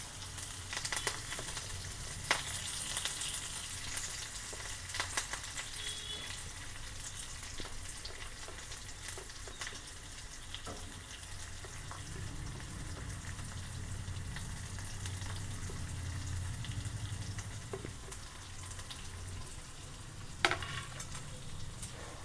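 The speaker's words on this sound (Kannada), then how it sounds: "ಸ್ವಲ್ಪ ಬ್ರೌನಿಶ್ ಆದ್ಮೇಲೆ ಆನಿಯನ್ಸ್ ಹಾಕೋಣ ಆಮೇಲೆ ಕರಿಬೇವು" Onions and curry leaves fry in hot oil as tadka for curd sambar over a low flame: a steady, close sizzle throughout, broken by occasional clicks and scrapes of stirring.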